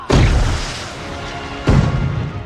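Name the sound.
fireworks exploding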